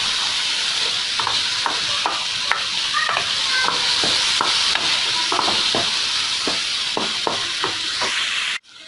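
Onion, ginger-garlic paste and tomato masala being stirred in a pan for chicken lasagna, a steady sizzle with repeated scraping spoon strokes at an even rhythm, close and alone.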